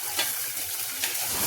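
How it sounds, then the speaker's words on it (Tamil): Chopped tomato tossed into hot oil with frying onions and curry leaves, giving a close, steady sizzle with a couple of brief stirring scrapes and clatters. "அதுக்கடுத்து கட் பண்ணி வச்சுருந்த தக்காளியை போட்டுக்கலாம்."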